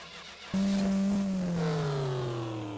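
A car engine in My Winter Car, rebuilt with the camshaft gear timing adjusted, catching abruptly and settling into a loud steady idle whose pitch slowly droops, no voices over it.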